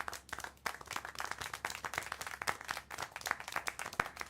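Scattered, fairly quiet clapping in the video game Syberia: The World Before, a patter of many overlapping hand claps with uneven rhythm, like a small burst of applause.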